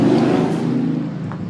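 A motorcycle passes on a residential street in Montana, its low, loud engine drone steady and rumbling before easing off slightly toward the end.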